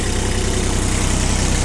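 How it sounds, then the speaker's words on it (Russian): A Kubota GL25 mini tractor engine idles steadily close by, a loud, even diesel chug with a regular low pulse and no speech. "Работает выхлопная труба у нас здесь, смотрим по выхлопу сразу же."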